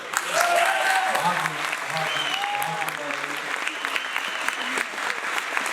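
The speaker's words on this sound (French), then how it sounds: "Je veux demander un tonnerre d'applaudissements pour les bénévoles" Strong, steady audience applause for the volunteers at a medal ceremony, with a voice speaking over the clapping early on and a hall-like wash of sound throughout.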